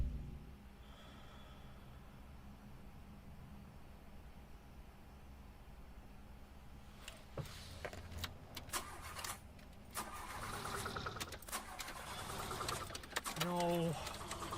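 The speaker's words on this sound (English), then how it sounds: "Alex, that was not a good sound effect for a car not turning over." A car engine cranks and sputters with uneven bursts of mechanical noise, failing to catch, after a quiet stretch; a voice speaks briefly near the end.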